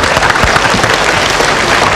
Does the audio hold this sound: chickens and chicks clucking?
no